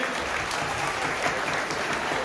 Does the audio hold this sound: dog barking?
no